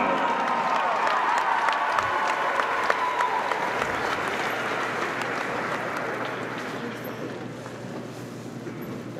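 Basketball fans applaud in an arena at a women's college game, DePaul versus Butler, a loud continuous wash of clapping and crowd noise that slowly tapers over nine seconds.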